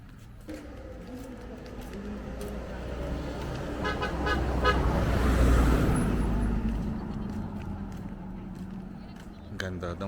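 Cars and 4x4 vehicles pass on a mountain road in the morning, a passing engine swelling loud midway and fading, with a horn toot, birds faintly around, and a person talking over it.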